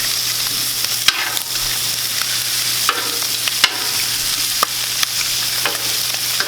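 Chicken sizzles on an outdoor Blackstone griddle with a loud, continuous frying hiss, broken by occasional sharp clicks and scrapes of a spatula against the hot steel surface.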